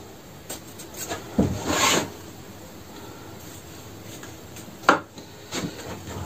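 Felt on a pallet planter wall is being cut at the corners, giving short scraping, rubbing strokes in scattered bursts against a quiet room background.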